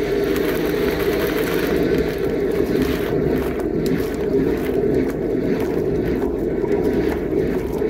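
A loud hydro jetter engine starts and roars steadily with a deep, churning rumble and hiss, running continuously without pause.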